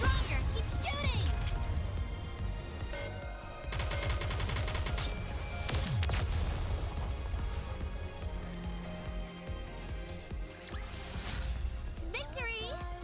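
Rapid gunfire and explosive bombardment from the Goddess of Victory: Nikke video game, dense bursts of shots and crashes layered over music with game character voices calling out.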